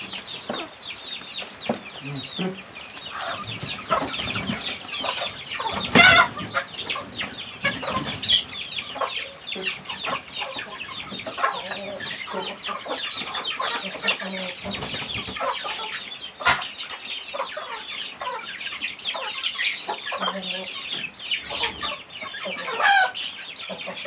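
A flock of chickens clucking continuously at close range, busy overlapping calls with a few sharper squawks, and brief voices in the background.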